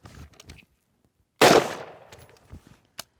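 A single sharp carbine rifle gunshot fires during a snap-shot drill on a shooting range, loud and close, with a short ringing decay and some light handling noises around it.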